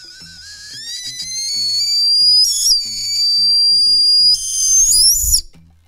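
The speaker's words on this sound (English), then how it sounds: "let's go ahead and see if this whistles" A shrill, high whistle from a whistling candy being blown rises steadily in pitch and grows louder, held for several seconds with brief breaks and a final squeal.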